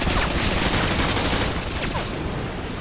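Gunfire in Call of Duty Modern Warfare 2 forms a dense, continuous roar of rapid automatic shots. It is loud and steady throughout and fades slightly toward the end.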